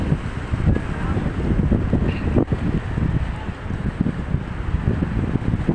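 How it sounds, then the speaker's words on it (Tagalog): Constant roaring rush of heavy surf and wind during a typhoon, loud and unbroken, with no clear voices. "napakarami pa rin alon, malakas pa rin ang mga alon dito"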